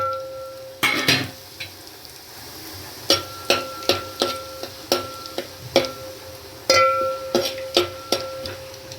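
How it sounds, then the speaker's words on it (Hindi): Whole spices (bay leaf, cinnamon, black and green cardamom, cumin, black pepper and cloves) dropped into hot oil for masoor dal khichdi, with close, sharp clinks and taps recurring over a soft sizzle. "अब देखिए, सब खड़े मसालों को तेल में डाल देंगे।"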